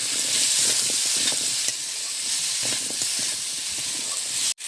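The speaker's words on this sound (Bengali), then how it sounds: "পরিমাণ মতো লবণ দিয়ে দিলাম, হলুদ, একটু নেড়ে চেড়ে নিচ্ছি।" Vegetables seasoned with salt and turmeric hiss and sizzle steadily in a hot pan as they are stirred, a close, continuous frying sound with faint scraping, ending in a sudden knock.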